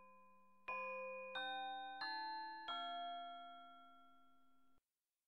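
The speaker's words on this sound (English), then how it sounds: "The bell rings to announce the end of school." A visual novel game's school bell marks the end of the school day with a four-note chime that rings out clearly, each tone sustaining and overlapping before fading out alone.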